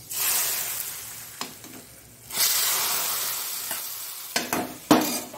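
A pot of Tulunadu-style bottle gourd and bimbli sambar boils with a steady bubbling hiss, broken by a few sharp clinks and scrapes of stirring near the end; no one speaks.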